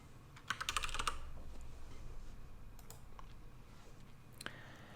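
Typing on a computer keyboard while entering a password, a quick cluster of clicky keystrokes near the start followed by a few isolated taps, close and moderately quiet.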